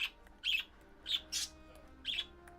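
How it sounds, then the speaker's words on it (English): Pet birds give short, bright chirps in quick bursts, three or four tweets spaced across a quiet indoor room. "My birds are very sassy."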